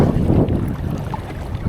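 Steady wind rushes over open sea around a fishing kayak, a low continuous buffeting roar close to the microphone with no voices.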